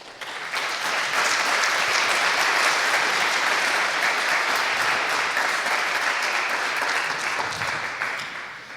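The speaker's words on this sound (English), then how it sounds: "So again, a big applause." An audience at a hacker conference talk applauds continuously for several seconds, a dense even wash of clapping that swells quickly and tapers slightly at the end.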